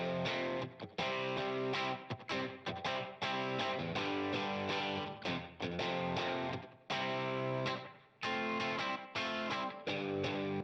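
Distorted electric guitars play a chopped, rhythmic riff with short gaps between bursts, a delay effect trailing the notes in a studio mix, fairly quiet and without voices.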